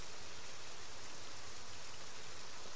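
Steady rainfall in the video game Heavy Rain, a dense continuous hiss of falling drops with no breaks, evenly loud and enveloping.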